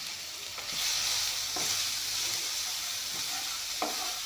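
Tomato pieces fry together with egg in a hot pan, a continuous sizzle with a few scraping stirs of a spatula, close and fairly loud, no voices.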